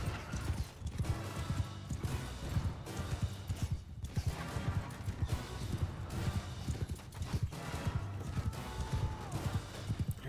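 Horse hooves galloping in the medieval combat game Bannerlord, a steady rapid clip-clop of hoofbeats running throughout with battle clatter layered in.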